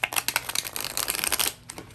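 Stiff tarot cards being shuffled by hand, a dense run of crisp riffling flutters and slaps for about a second and a half, then a couple of softer card taps, close and fairly quiet with no talking.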